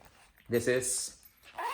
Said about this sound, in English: Clear zipper, as you can see here.